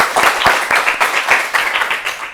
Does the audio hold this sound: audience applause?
yes